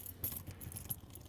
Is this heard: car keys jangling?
yes